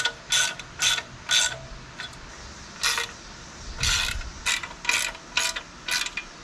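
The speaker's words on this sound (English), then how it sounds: "so now we just bolt the rest of it up" A ratchet wrench tightens bolts on a Jeep TJ engine during an engine swap, giving close, crisp bursts of rapid clicking in repeated short strokes with brief pauses between them.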